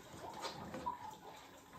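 Water poured into a Beast Lab toy, a soft, faint splashing trickle lasting under two seconds with no one talking.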